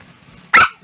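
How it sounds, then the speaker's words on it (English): A dog gives a single brief, sharp growling snarl up close while guarding a bed from another dog, loud against a quiet room. "She's even growling."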